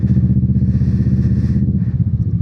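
A Kawasaki Z650 motorcycle engine runs steadily while riding, with a pulsing low rumble, close up, a faint clatter at one point and no voices.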